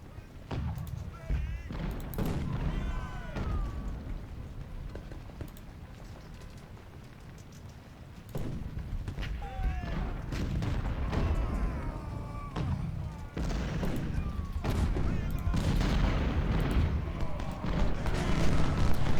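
Artillery booming in the strategy game Ultimate General Civil War, repeated low thuds and rumbling blasts under someone talking, growing denser and louder toward the end.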